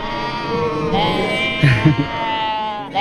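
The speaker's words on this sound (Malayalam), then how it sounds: "എല്ലാ ആടുകളും കണ്ടോ ഒരു ദിശയിലേക്ക് പോകുന്നത്" Several sheep bleat loudly and close together in Kyrgyzstan, their wavering calls overlapping continuously.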